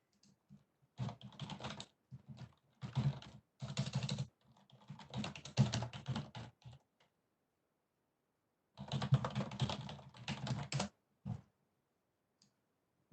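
Typing an email on a computer keyboard at a mail server: bursts of rapid, close clicky keystrokes, a long pause, then another flurry of typing, with no talking over it.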